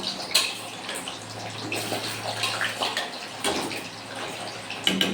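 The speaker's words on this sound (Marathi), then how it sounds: "तर बघू शकता छान असे तळत आहे पनीर" Paneer cubes frying in hot oil in a pan, a steady close sizzle and crackle with a few sharper spits running throughout.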